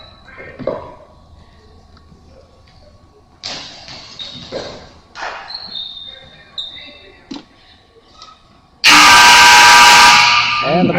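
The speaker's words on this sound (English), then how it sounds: "And the buzzer sounds for the halftime" At a goalball game in a regional tournament, a loud, steady buzzer blares for about two seconds to mark halftime, rising suddenly over quieter gym sounds and thuds.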